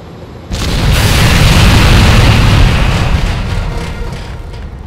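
In the Alcatraz video game, a helicopter struck by an RPG bursts into a loud, deep explosion that erupts suddenly, then rolls on as a long, heavy rumble and slowly fades.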